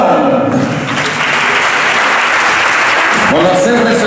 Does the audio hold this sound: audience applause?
yes